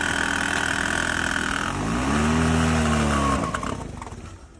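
A city-owned vehicle at a municipal auction in Norfolk, its engine idling, then revving as it is driven forward and backward before fading away, heard up close with no talking.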